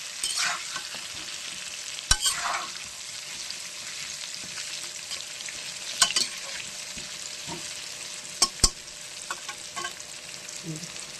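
Mutton frying in a pan, a steady low sizzle under repeated scraping stirs and a few sharp clacks of the spoon against the pan, close and moderately loud with no talking.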